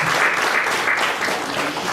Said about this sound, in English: Members, let's have a round of applause